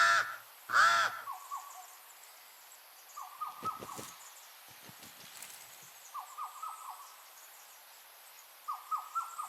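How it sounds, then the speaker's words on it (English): Pied crows calling in a forest, with harsh repeated caws and croaking calls in short bursts, some near and loud, others fainter, separated by quiet gaps. "The pied crows have built their nest in the highest branches."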